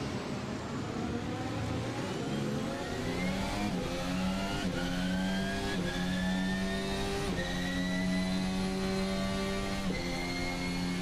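An F1 race car engine in Assetto Corsa screams as it revs up through the gears again and again, each shift dropping the pitch before it climbs once more, loud and close with no talk.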